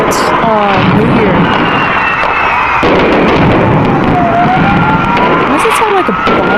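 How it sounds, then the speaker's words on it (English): Repeated deep booms and sharp bangs of New Year fireworks, with whistling rockets rising through the din and people talking over the noise. "Why does it sound like a bomb going off"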